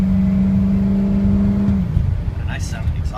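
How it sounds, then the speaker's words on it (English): A 2005 Ford Excursion 4x4 diesel engine and exhaust drones in a steady, loud idle with a strong low hum, then the tone drops and turns rougher as the engine note changes, with a brief high sound near the end. "A nice sounding exhaust too"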